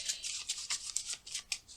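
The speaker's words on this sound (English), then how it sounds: "we gotta shuffle real quick" Playing cards being shuffled during a card trick, a quick run of crisp riffling, flicking bursts close by, with no talking.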